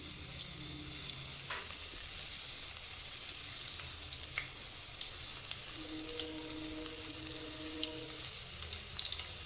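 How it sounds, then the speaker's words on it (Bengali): Batter fries in hot oil for motichoor laddu, a constant fine sizzle and crackle throughout with faint tonal hum in the background and no speech. "তো কিছুটা দিয়ে আমি ভেজে নেব তো তেলটা কিন্তু গরম থাকতে হবে"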